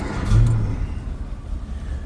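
A 1964 Amphicar 770 engine cranks over with the key and catches, a short loud rumble that settles into a steady low idle, heard up close.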